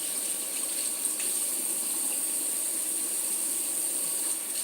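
Tap water runs steadily from a faucet while someone washes their face, a constant hissing stream at moderate level with no talking.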